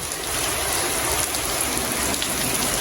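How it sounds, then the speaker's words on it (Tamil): A sudden, heavy downpour falls outdoors at a rural home while sathumaa is being made. It is a dense, continuous, close roar of rain with no voices. "மழையை பாருங்க எப்படி மழை பெய்யுதுண்டா."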